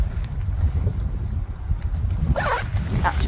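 Splash-proof zip on the clear pocket of a Wild Moose Caribou waterproof backpack being pulled shut, a short, close, raspy zipping burst near the end after soft handling rustle.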